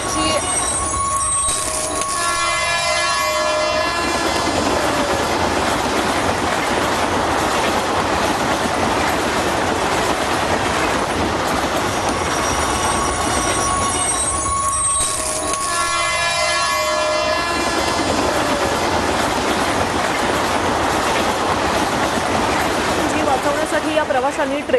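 The Pushpak Express passes near Jalgaon with a loud, sustained rumble of wheels and carriages, high tonal squeals or horn blasts, and talk underneath.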